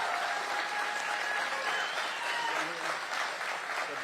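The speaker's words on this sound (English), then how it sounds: "let's give them a big round of applause" Sustained, dense applause from an audience gathered at a facility event in metro Atlanta, steady and fairly loud throughout with a hint of crowd noise underneath.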